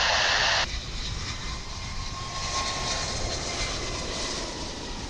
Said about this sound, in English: Here comes American Airlines Flight 115 from Honolulu.